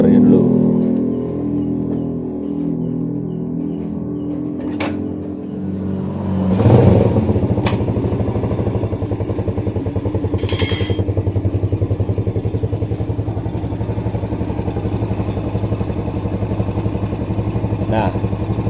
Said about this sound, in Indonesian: Tapi kita hidupkan motornya dulu.